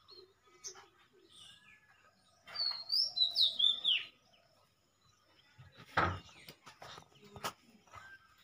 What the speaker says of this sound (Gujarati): મોરે બોલે છે.